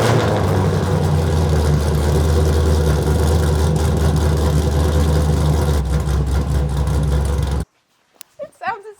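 V8 engine swapped into a BMW E30 running loud and rough at idle for several seconds, a thick low rumble that cuts off abruptly, followed by someone talking.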